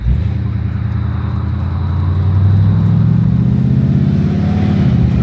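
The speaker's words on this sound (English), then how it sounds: "I'm gonna start with the Galaxy. Fired right up, and we're gonna get headed to Tyler's house." Ford Galaxie hot rod engine idling just after starting, a loud close low rumble that swells slightly in pitch midway, steady throughout with no voices.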